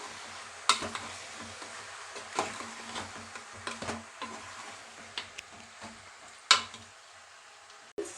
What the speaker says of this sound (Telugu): ఇప్పుడైతే కలిపేసుకుందాం ఒకసారి